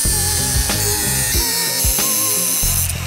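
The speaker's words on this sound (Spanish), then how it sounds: "Primero voy a quitarle lo más gordo con el disco de corte." An angle grinder with a cutting disc bites into a hybrid bicycle frame being converted for gravel riding, giving a loud, continuous high whine that surges and dips as the disc loads against the metal, close by and with no talk.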